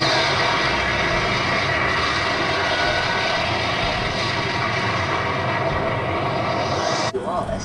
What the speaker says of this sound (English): she hears planes outside. Maybe bombers